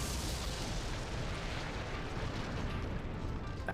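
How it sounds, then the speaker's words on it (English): Explosion in Ace Attorney: Dual Destinies, a dense, sustained rumbling blast that fills the whole stretch at moderate loudness, with no voices. "That's a big explosion."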